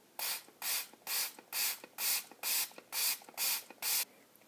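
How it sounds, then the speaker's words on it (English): Countertop spray pumped from a trigger bottle in nine quick, evenly spaced hissing bursts, close and crisp, with no voices. "It's countertop spray."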